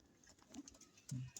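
A domestic pigeon coos briefly once, low and fairly close, near the end of a short, quiet stretch with faint ambient noise and a few soft chirps.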